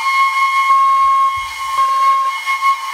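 A Japanese shinobue bamboo flute plays clear sustained notes, a bright steady tone that steps briefly to a lower note and back, alternating a few times, close and alone.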